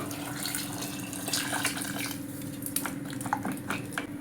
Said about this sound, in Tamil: மூழ்கிற அளவு தண்ணி ஊற்றிக்கலாம்